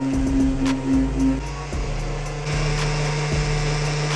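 Garage heater running with a steady mechanical hum and whir, interrupted by a few brief pauses and clunks, fairly quiet and without talk.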